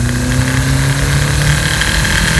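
A 1.8T car engine pulls in second gear under gradually rising throttle, a loud, continuous drone with steady low harmonics and a slowly climbing pitch, heard close and alone.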